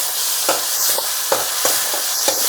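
Tomatoes, green chillies and spices fry for a dal palak tadka: a steady close sizzle broken by several sharp spatula scrapes and taps against the pan.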